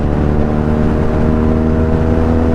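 A BMW R nineT 1200cc motorcycle engine runs loud and close in a steady, throaty idle-to-rev drone with a strong low pulsing hum and no clear pauses.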